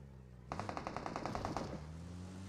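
Automatic gunfire in the mobile game PUBG Mobile, a rapid burst of about a dozen evenly spaced shots lasting just over a second, loud and close, then a lingering low hum.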